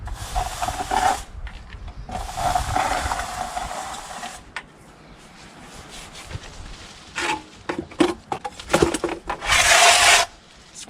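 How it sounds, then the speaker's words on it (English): Render being scraped off a wall with a trowel or float during rendering work, heard as bursts of rough, close scraping and rubbing strokes separated by short pauses, with some sharp taps and a final harsh scrape. "Scrape it off and always put it back in the bucket."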